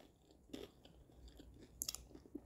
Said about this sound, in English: Can you hear the chicken crunching?